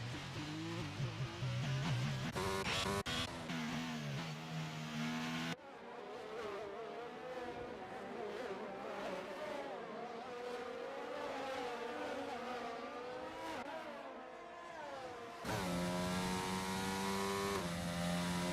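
Formula 1 race cars in the F1 22 game at the British Grand Prix, engines whining at high revs with sweeping pitch rises and drops as they pass, loud and continuous with a sharp change partway through.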